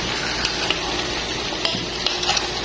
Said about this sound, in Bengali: এখন আমি এখানে টমেটো কুচি এবং কাঁচামরিচ কুচিগুলো দিয়ে দিব। তার ভালো করে নাড়িয়ে নেব।